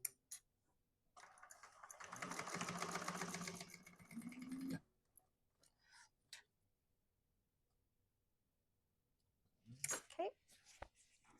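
A sewing machine runs a short burst of backstitching on a bag seam, a fast mechanical rattle lasting a few seconds, then falls quiet with scattered clicks and a brief rustle near the end.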